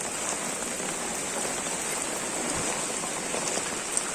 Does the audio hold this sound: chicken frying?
no